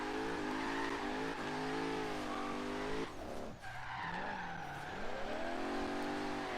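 A 1972 Mercedes 300SEL drift build with 750+ lb-ft of torque slides low and slow, its tires squealing in a long continuous skid over a steady, droning engine, with a brief dip midway before the squeal resumes.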